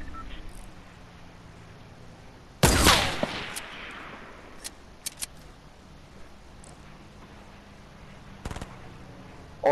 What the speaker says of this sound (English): Someone else is shooting at them on the turret. I'm shooting at them too.